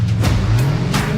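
A drag race car launches hard from the starting line, a loud close engine roar with a low rumbling tone building over about a second, no speech.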